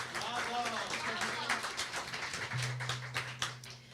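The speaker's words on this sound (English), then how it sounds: "Second round of applause for the amazing kids from Little Louisa de Jesus Cruz School." An audience claps for a youth chorus, scattered applause running under a voice speaking over a microphone, with a faint feedback hum partway through.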